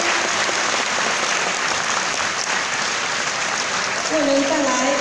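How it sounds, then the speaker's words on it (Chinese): Applause from an audience at a thanksgiving gathering in Taichung greeting a choir conductor, a sustained even roar of many hands clapping, with a voice beginning to speak over it toward the end. "我们用最热烈的掌声欢迎从政合唱团指挥"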